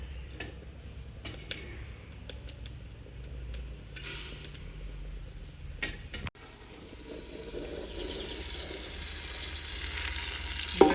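Ghee sizzles steadily in a pan for desi chicken, a continuous crackling fry that grows louder and brighter toward the end, with a few faint clicks and clatters.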